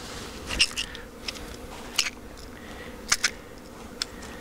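Bees buzzing around an open hive during an Apivar mite treatment, with several brief loud passes close by over a soft steady hum.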